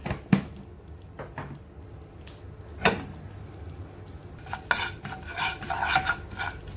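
Garam masala and cumin powder roasting in a pan for tempering, heard as sporadic metal spoon scrapes and clinks against the pan over a faint background sizzle, with no voices.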